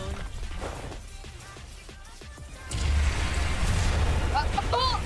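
A domain expansion attack by Mahito in the game Jujutsu Shenanigans sets off a sudden loud booming roar that swells and holds steady, with sharp whooshing bursts near the end and people talking over it.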